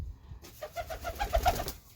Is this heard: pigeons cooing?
yes